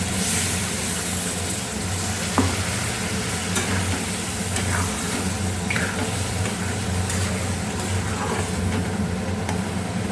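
Blended poppy seed paste, for a papaya posto dish, frying and sizzling steadily in a pan, with a spatula scraping and stirring at close range and occasional clinks throughout.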